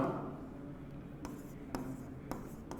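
Chalk or marker scratching on a board as a geometry proof is written during a math lesson, soft continuous rubbing strokes with a few sharper taps, fairly quiet and close.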